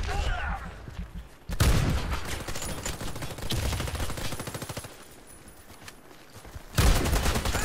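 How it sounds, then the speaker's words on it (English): Rapid bursts of gunfire from a teammate in a team deathmatch shooter game, loud and close, broken by short pauses and mixed with game effects and a voice. "got a teammate shooting at me."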